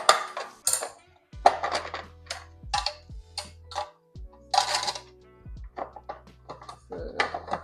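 A kitchen utensil is washed and set down. Crisp metallic clinks and clatters come in irregular bursts, close and fairly loud, with brief quiet gaps between them.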